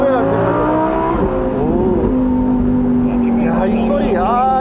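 A high-revving naturally aspirated V10 engine of a Lamborghini Huracán EVO, redlining at 8500 rpm, climbs and drops in pitch, loud and close, with a voice talking over it.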